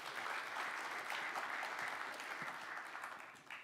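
Sustained applause from a conference audience after a lightning talk at a poster presenters' session, steady dense clapping throughout with a slight dip near the end.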